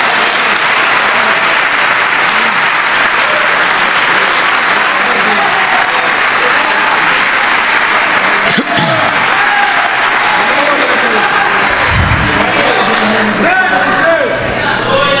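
A church audience applauds at a sermon, a steady dense wash of clapping that fills the whole stretch, with a few low thumps near the end.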